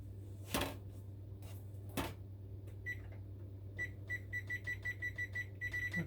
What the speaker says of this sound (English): So let me set my timer